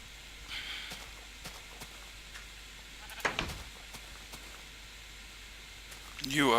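Sheep in the Minecraft video game bleat faintly a couple of times over a steady low background hiss, with a louder bleat near the end.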